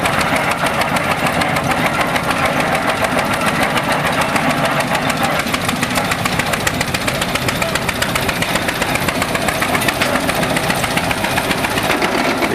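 A vintage Titan tractor engine runs steadily at a farm show, a loud, close, continuous mechanical chugging with a fast, even knocking pulse throughout.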